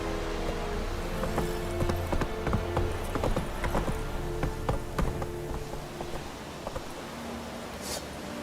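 Roach, a horse in the game The Witcher 3, gallops in quick, uneven hoof thuds over a continuous rumbling outdoor game background, fairly loud and close, with a short bright sound near the end.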